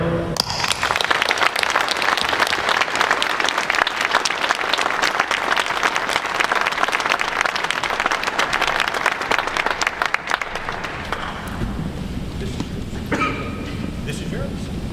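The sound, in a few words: audience applause welcoming company owners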